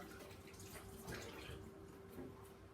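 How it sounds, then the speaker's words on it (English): Cold water runs steadily from a tap as hands are rinsed beneath it, a continuous faint splashing wash with a few slightly louder swells, no talking. "Rinse it off with cold water"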